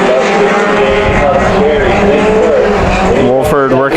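Race cars roaring through a heat race at Bakersfield Speedway, a loud continuous engine drone with rising and falling pitch sweeps as cars pass, with voices talking over it.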